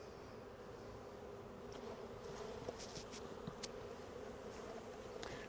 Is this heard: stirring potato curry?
no